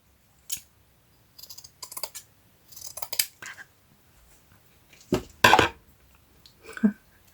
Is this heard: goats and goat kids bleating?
no